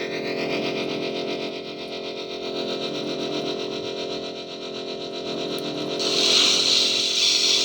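A deep, steady electronic lightsaber hum from a SaberForge hilt, with a gritty, distorted buzz holding throughout, swelling brighter and louder near the end.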